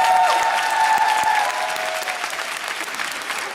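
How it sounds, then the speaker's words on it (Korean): A concert crowd at a fan event claps loudly for the sound crew, a dense wash of applause that starts strong and eases slightly toward the end, with a faint tone ringing underneath. "또 음향 조정해 주시는 음향팀에도 박수 한번"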